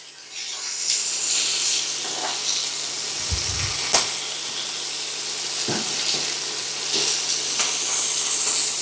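Chicken livers sizzle and spit steadily in a hot pan, a constant frying hiss with a few soft knocks and scrapes partway through.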